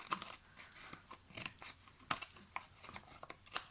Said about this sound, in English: I'm going to flip it over and cut off or trim the side that is dry.